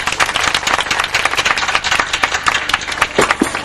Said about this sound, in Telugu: అందరూ చప్పట్లు కొట్టాము.